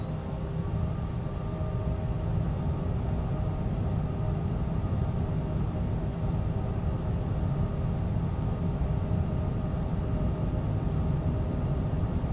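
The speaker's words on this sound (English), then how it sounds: "let's go ahead and open throttle" Steady, droning jet engine roar from a Citation CJ4 in Microsoft Flight Simulator 2020, throttled up for the takeoff roll, with a constant high whine over a low rumble.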